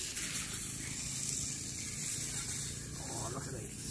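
Buffalo burgers sizzle in a frying pan with a faint, steady hiss and crackle, quiet and unbroken from start to finish.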